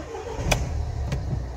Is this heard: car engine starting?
yes